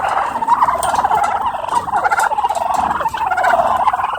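A flock of turkeys gobbling in repeated bursts, fairly loud and close, with overlapping calls and no talking.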